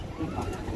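Giribaz pigeons of a ranging (chharachhari) line, a green-throated female and her male, give a brief soft coo over a low, steady room murmur.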